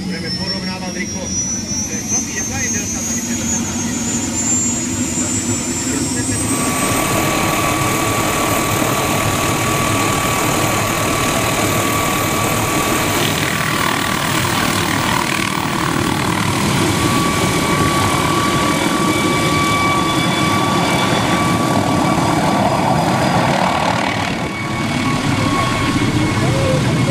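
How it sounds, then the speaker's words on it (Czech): An ultralight aircraft lands at an ultralight air meet in Nymburk, its engine droning steadily and loudly throughout while people talk nearby. "Vidíme další přistání, dalšího ultralightu."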